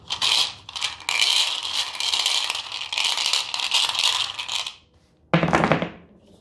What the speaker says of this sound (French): ça fait un bruit de dingue les dés